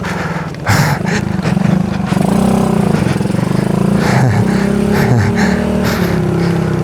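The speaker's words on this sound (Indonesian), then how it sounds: "Wih, ada motor." A motorcycle engine drones loudly close by on a hill trail toward Bukit Argo Wulan near Mount Bromo, revving up and down as it passes over several seconds.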